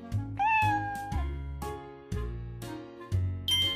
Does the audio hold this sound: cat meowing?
yes